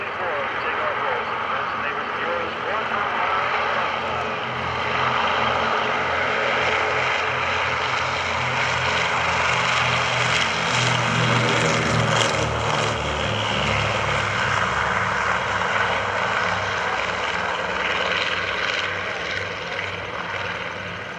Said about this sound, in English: Here comes a P-24 to take off rolls.